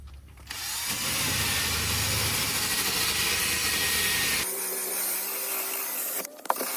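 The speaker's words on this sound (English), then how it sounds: "use this wire brush attachment for my cordless drill and try to get off all the loose pieces of rust" A cordless drill with a wire brush attachment whirs steadily, grinding scratchily against rusty metal inside a car door, running continuously for several seconds, then the pitch shifts and it winds down.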